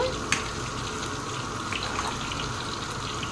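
Ginger paste going into a pot of simmering mutton yakhni broth, a steady close sizzling and bubbling hiss with a small clink near the start, no talking.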